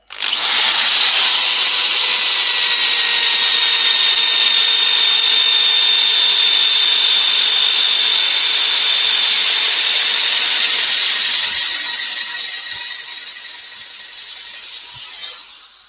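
A power drill fitted with a sanding disc grinds across a natural-edge yew wood piece in a loud, steady, high whine lasting about twelve seconds before easing off and dropping in pitch at the end.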